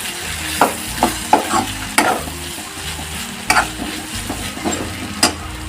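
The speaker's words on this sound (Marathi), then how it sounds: "कोथिंबीर टाकल्यानंतर परत एकदा व्यवस्थित मिक्स करून घ्यायचा" Ivy gourd stir-fry with chopped coriander being stirred in a pan, a spatula scraping in repeated strokes roughly every half second over a low steady sizzle, close and clear.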